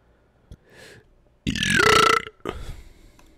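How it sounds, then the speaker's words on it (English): A loud, drawn-out burp lasting under a second follows a brief faint vocal sound, with a shorter trailing gurgle after it, alone in an otherwise quiet room. "Sorry for the burp."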